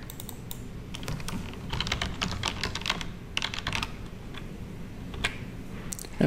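Close, crisp keystrokes on a computer keyboard come in quick irregular bursts with short pauses, as a remote computer name is typed during software setup; no one speaks.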